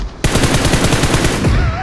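Automatic gunfire in PUBG Mobile cuts in abruptly as a loud, rapid, steady burst of shots that rattles on for over a second and a half, near and dominant, with no talk over it.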